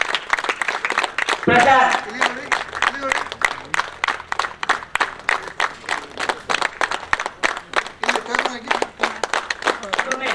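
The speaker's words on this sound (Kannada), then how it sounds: "ಜೋರಾದ ಚಪ್ಪಳೆ ಬಂಧುಗಳೇ, ಜೋರಾದ ಚಪ್ಪಳೆ" An audience at a Home Guards Day ceremony in Dakshina Kannada claps loudly in a dense, sustained round of applause, with an announcer's amplified voice speaking over it.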